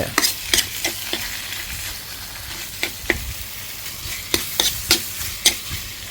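Meat stir-fries in a hot pan with a spoon, sizzling steadily while the spoon scrapes and taps against the metal in irregular strokes, close and fairly loud.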